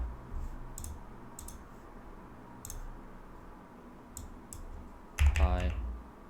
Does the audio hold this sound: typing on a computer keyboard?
yes